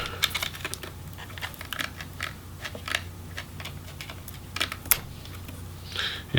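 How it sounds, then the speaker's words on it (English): Small plastic connectors are pulled from the board of a Razer Blade Pro RZ09 laptop, giving faint, scattered ticks and clicks close up over a quiet background hum. "for now we'll just pull the connectors out of the NL board"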